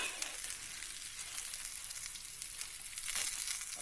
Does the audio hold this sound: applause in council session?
no